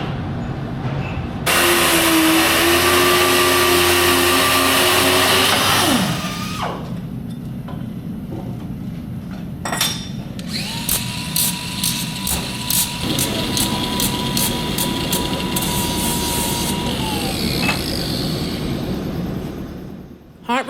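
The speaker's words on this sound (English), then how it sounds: "Let's watch them install a few of these rivets" Hot riveting on the firebox of Reading & Northern's #425 steam locomotive during its overhaul: loud workshop noise with sustained humming machinery and a stretch of rapid rattling hammer bursts, all close and heavy.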